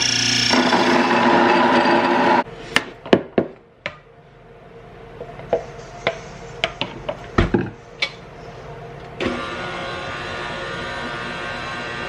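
A kitchen grinder grinds ingredients in two loud, steady bursts, one at the start and a longer one at the end, with sharp clattering knocks and taps between them.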